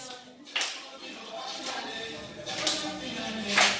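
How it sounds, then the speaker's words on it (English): A group of children in a music lesson clap together in loose, uneven bursts, several claps landing slightly apart, close and fairly loud over room noise and shuffling. "Clap together."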